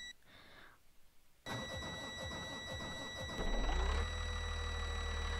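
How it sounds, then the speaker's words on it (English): A bus engine in the Rigs of Rods driving game cranking briefly and then catching, settling into a steady idle that swells into a louder, deeper drone with a faint high whine above. "We're going to start our bus."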